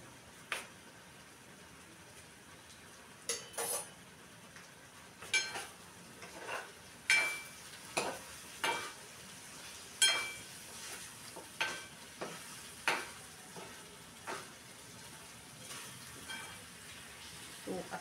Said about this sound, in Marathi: आणि आता ही मस्त ढवळते आणि शिजवायची वाफेवरती.